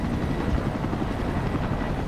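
A video-game helicopter lifts off with a steady, close rotor thrum and low chopping drone, continuous and fairly loud, with no talk over it.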